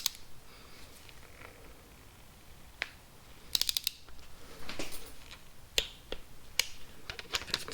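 A torque wrench tightens bolts during bottom-end engine assembly on a Land Rover Discovery 2, producing sharp, close metallic clicks and ratcheting ticks in scattered bursts against a quiet background.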